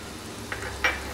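Cashew nuts and broken wheat fry in a pan for Hyderabadi chicken haleem, giving a faint, steady sizzle with two brief stirring scrapes.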